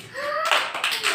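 Children clap their hands in a classroom, a brief burst of quick, close claps that follows a voice trailing off at the start.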